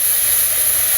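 Water poured into a hot pan of village-style chicken curry gives a loud, steady sizzle and rush of steam, a dense, even hiss held close up for about a second with no voices.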